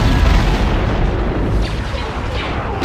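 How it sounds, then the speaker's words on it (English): A full salvo of space-battle fire in the Star Wars: Empire at War strategy game, a dense continuous rumble of booms and blasts, loud and sustained with no distinct gaps. "Prepare for a full salvo."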